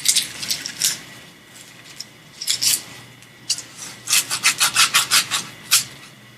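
Wooden wand tip sanded by hand with sandpaper: close, dry scratchy strokes in short bursts, sparse at first, then a quicker run of repeated rubs near the end, with no talk.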